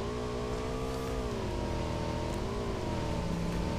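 A motorcycle engine in PUBG Mobile on the Livik map drones loudly and steadily, its pitch rising and dipping slightly as the bike is ridden, with no speech.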